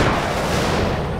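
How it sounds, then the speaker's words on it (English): Artillery barrage in the Company of Heroes game, a dense continuous rumble of overlapping blasts that stays loud and steady from start to finish, with no voices. "Barrage underway."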